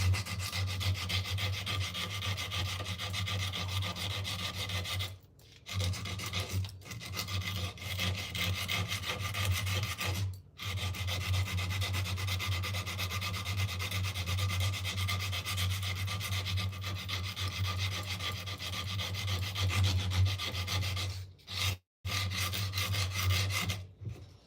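Steady back-and-forth rasping of good-quality sandpaper on wood, continuous and close, broken by a few brief pauses between strokes, with no voices.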